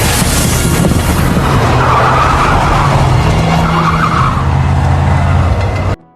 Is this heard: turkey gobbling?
no